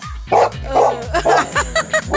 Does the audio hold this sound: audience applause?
no